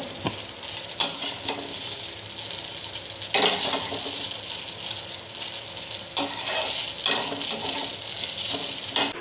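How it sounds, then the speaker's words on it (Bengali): Cooked pasta scraped and tipped from a pan into a bowl, with bursts of metallic scraping and clattering over a steady hiss, heard close and fairly loud. "এখন একটা বাটিতে ঢেলে নেব।"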